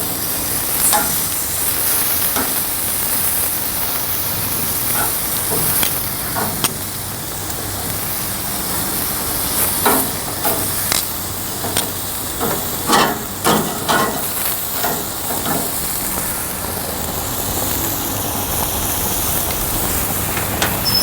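Chicken wings for a Chinese takeout recipe sizzle steadily on a grill as a loud, continuous hiss, with scattered crackles and pops and occasional scraping from handling.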